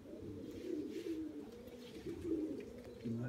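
Pigeons cooing inside a pigeon loft, a soft continuous low warble from several birds, close by and steady throughout with no talking.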